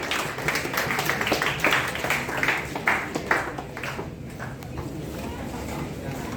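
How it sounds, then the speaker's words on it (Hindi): Audience applause welcoming guests at a Teacher's Day celebration at a medical college, a dense burst of clapping throughout with crowd noise and voices mixed in, fading slightly toward the end. "एक बार स्वागत करेंगे जोरदार तालियों के साथ।"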